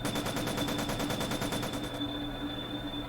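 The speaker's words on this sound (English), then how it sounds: "The gunfire resumed once again." Rapid machine-gun fire as a dramatized story effect, a fast, evenly spaced burst of loud shots for about two seconds, then a lingering rumbling tail.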